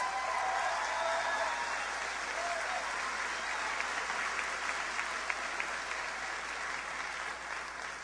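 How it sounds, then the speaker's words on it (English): A large crowd at a New Hampshire election-night rally claps for Senator Clinton, a steady, even wash of applause that holds for several seconds with scattered cheers mixed in. "Give her a big round of applause."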